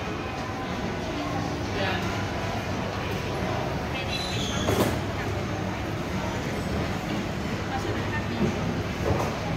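A steady rumble and rattle of a small tourist train riding along an elevated track at Chatuchak weekend market in Bangkok, continuous and moderately loud, with faint voices in the background.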